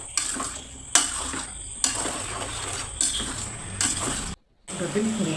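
Lemon pickle is stirred in a hot pan: a soft sizzle runs under rhythmic scraping strokes about once a second, broken by a brief silent gap near the end.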